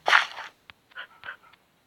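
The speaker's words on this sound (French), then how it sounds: "Les chiens." A short yelp from a dog in Minecraft, followed by several faint whimpering, panting bursts, small and close with quiet gaps between them.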